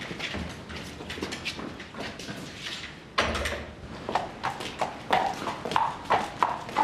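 Horse hooves clip-clopping across a hillside, an uneven series of close, distinct knocks that grow louder partway through, with no voices.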